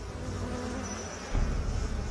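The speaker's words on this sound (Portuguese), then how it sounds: "Abelhas, vespas e marimbondos assustam todos nós." Bees and wasps buzzing: a close, continuous insect drone that swells slightly toward the end, with no voices.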